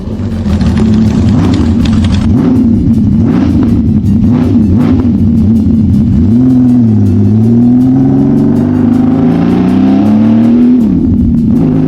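Honda CBX 1000 six-cylinder motorcycle, engine and six-pipe exhaust, revving loud and close with a smooth metallic howl that rises and falls over repeated throttle blips, then climbs in one long sweep through the revs before easing back.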